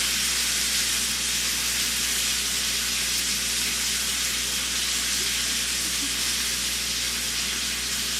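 Tuna steaks searing in a hot pan give off a loud, unbroken hiss of sizzling and steam that holds steady from start to finish.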